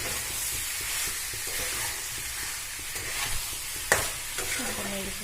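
Chicken curry stirred in a pot with the lid lifted off, a steady close sizzling hiss with soft scraping strokes and one sharp clink of the lid or spoon near the end.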